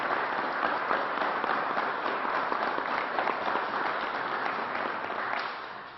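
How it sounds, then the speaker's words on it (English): Audience applause at a state governor's news briefing, a continuous broad burst of many clapping hands at moderate loudness that holds steady for several seconds before tapering off at the end, with no talking. "Let's give the NFTA a round of applause."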